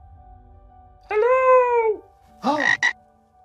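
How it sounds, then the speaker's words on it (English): A single frog in an oasis well gives one long, drawn-out croak, then a shorter double croak follows about a second later, loud and close with echoing resonance and no talk. "Kermit the Frog's down there."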